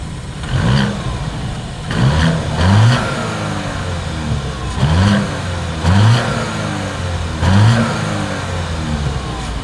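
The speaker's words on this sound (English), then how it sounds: "As always, here is that exhaust clip." A 2025 Audi Q7 SUV's engine is revved repeatedly through its exhaust, with five loud, evenly spaced rises in pitch that fall back to a steady idle between them, heard close by and without speech.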